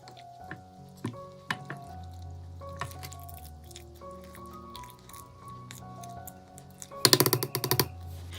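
Rice flour and water are mixed together by hand, giving soft, wet squishing and dripping sounds at close range, with scattered taps and a brief louder burst of wet clatter near the end; no talking.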